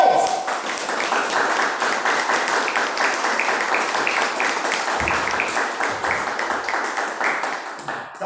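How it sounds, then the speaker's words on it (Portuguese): A church congregation claps together through a sermon on sin, a dense, sustained wash of applause that fades slightly toward the end, with no voices over it. "Uma salva de palmas a esse Deus!"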